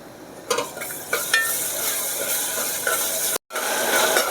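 A spoonful of ginger garlic paste sizzles steadily in a hot pan for goat head curry, with several scraping stirs of a spoon and one brief break in the sound near the end.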